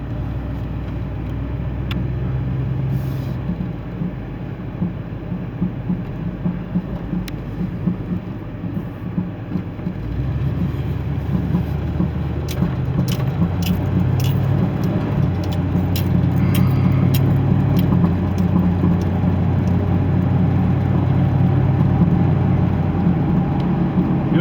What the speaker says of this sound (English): It goes down the road good for an old Jeep.